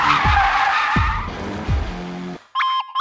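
Car tires skid on a road with poor grip, three sharp screeching bursts about a second apart, close and loud, followed by a brief electronic chime.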